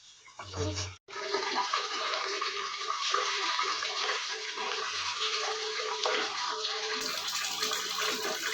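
Water runs steadily from a tap as rice is washed in a home kitchen for Hyderabadi dum biryani, a continuous close rush with faint splashing and no talking.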